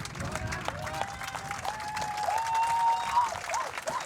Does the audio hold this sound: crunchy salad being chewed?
no